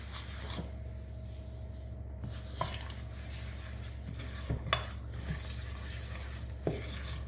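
A spoon stirs melted butter and vanilla sugar through a raspberry crumble mixture in a bowl, giving soft scraping strokes with a few sharper clinks against the dish, fairly quiet and close over a low background hum.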